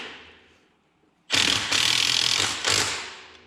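A ratchet or power tool drives a 12 mm skid plate bolt on a Honda Rancher ATV, a loud whirring, clicking burst starting abruptly after a quiet lead-in and continuing in two or three close bursts.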